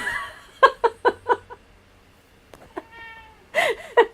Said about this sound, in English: the cat comes in and he's meow, meow, meow, and here he comes